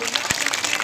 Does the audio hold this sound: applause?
yes